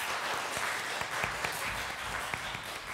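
An audience applauds a wind quintet of the Szczecin Philharmonic, with a steady, moderately quiet roar of many hands and a few sharper individual claps standing out.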